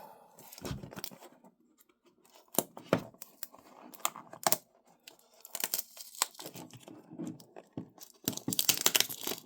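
Tape is peeled by hand off the bottom of an open-box Best Buy Galaxy Watch6 Classic box, in irregular close ripping and crinkling bursts between quiet pauses.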